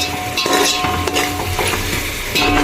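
Washed puffed rice being stirred in an oiled pan for susla, a loud close scraping and shuffling of a spoon against the pan in repeated strokes over a soft sizzle.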